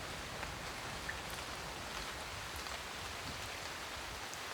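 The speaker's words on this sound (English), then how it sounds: "The persistent rain and unseasonable cold" Persistent rain falling outside a mountain hut, a soft, even hiss of drops that stays constant and fairly faint throughout with no voices.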